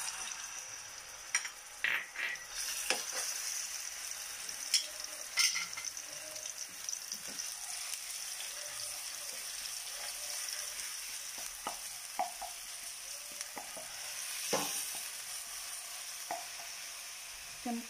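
Grated onion frying in oil in a pan, a steady close sizzle with scattered scraping stirs and a few utensil knocks, no voices.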